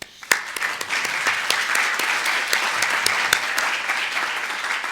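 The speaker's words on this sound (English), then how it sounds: "I think they deserve a round of applause." Conference audience applauding sponsors at a tourism event, steady dense clapping with a few sharper individual claps standing out, continuing throughout.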